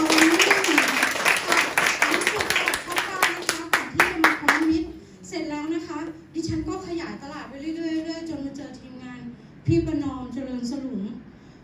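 Group of people at a Thai business gathering claps hands for a few seconds in quick, loud bursts, then the clapping stops and voices take over, talking with occasional brief claps or thumps.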